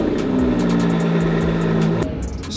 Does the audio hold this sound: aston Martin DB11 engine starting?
yes